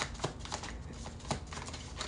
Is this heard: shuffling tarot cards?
yes